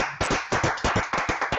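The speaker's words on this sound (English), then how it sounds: "clap was hard" About a dozen sharp hand claps ring out close and loud in a quick, slightly uneven rhythm, sounding like a small group or single clapper rather than a large crowd.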